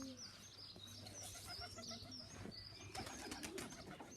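Pigeons circling overhead during a loft release of old birds, with soft cooing and chirps over a steady outdoor background and faint wing flutter, moderately distant.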